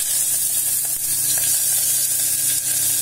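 Chopped onions sizzle in hot oil already seasoned with crackled cumin seeds and asafoetida, a loud, steady, close-up hiss with faint stirring scrapes underneath.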